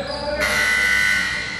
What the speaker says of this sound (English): kind of forgotten substitution buzzer goes off again